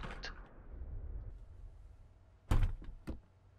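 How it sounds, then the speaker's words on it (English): The cargo door of a Kodiak 100 aircraft is shut: a quiet rustle and hum lead into a heavy, close thunk, followed by two lighter latching knocks. "cargo door closed"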